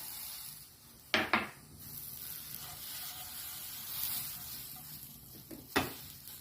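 A handful of curry leaves dry-roasts in a pan over a low stove flame with a soft, steady crackle, broken by a few sharp clanks of a spoon stirring against the metal.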